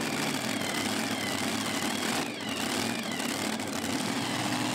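A drag racing machine with two supercharged V8 engines at a power weekend event roars continuously and loudly, a dense sustained engine blast with a brief dip midway.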